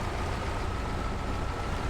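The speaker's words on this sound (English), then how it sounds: "All I could hear was the engine." A low, steady truck engine in the video game SnowRunner drones on evenly for a couple of seconds, dense and unchanging, with no other sounds.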